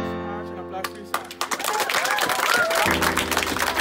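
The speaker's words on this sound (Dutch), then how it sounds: "En applaus voor jullie." Sustained audience applause swells up over a fading sustained musical tone, a loud crowd of clapping hands that builds after the first second and stays steady, with music returning near the end.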